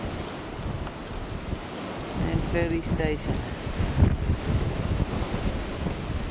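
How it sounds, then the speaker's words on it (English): Gusty wind roars and buffets the microphone throughout on New Zealand's Otago Rail Trail near Ranfurly, with a rumbling low end; a voice briefly speaks partway through. "Very, very windy today."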